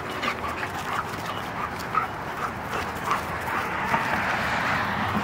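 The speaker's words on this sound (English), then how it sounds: "I'm sure she's never met a dog like Calhoun before that flops around like that" Several dogs romp together in healthy play, one flopping around, giving steady close yips, whimpers and panting with occasional short barks over a continuous scuffling, busy background.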